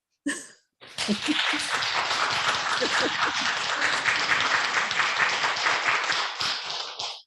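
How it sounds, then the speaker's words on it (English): A brief sound, then a short pause before a spring equinox gathering's audience bursts into applause for the performers, sustained and fairly close, fading out near the end. "And now let's have a big round of applause for our RE players."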